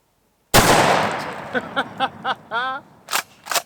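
A Benelli SuperNova 12 gauge shotgun fired outdoors in the country: one loud, sharp blast with a long rolling echo, followed by a man's brief reaction, then two more short pops.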